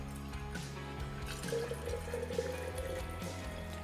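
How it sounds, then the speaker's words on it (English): Water pours steadily into a glass container, a continuous liquid rush with small splashes and clinks, close and moderately loud. "I am using a glass container and pouring some water into it"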